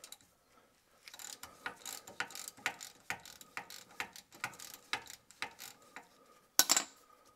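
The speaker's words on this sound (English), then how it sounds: "Next, just break all of these, I think 12 bolts loose with a 10 millimeter socket." A ratchet with a 10 mm socket breaks loose the bolts on a Jeep JL differential cover, making a quick series of close, crisp clicking bursts in an uneven rhythm, with one sharper clack near the end.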